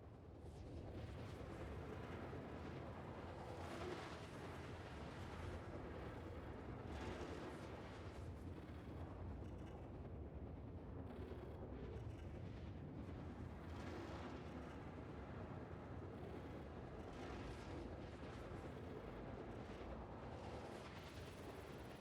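Missile explosions in the space game Star Citizen sound as a dense, continuous roar of booming blasts and rumbling detonations, loud and sustained across the whole stretch with no talk.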